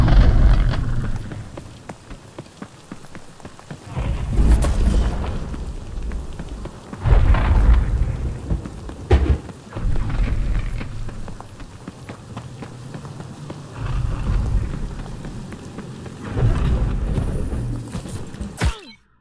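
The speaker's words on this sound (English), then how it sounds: "Yeah, the rain will kill me." Rain and rolling thunder in the game The Cycle: Frontier, a steady downpour broken by several loud rumbling thunder swells spaced a few seconds apart.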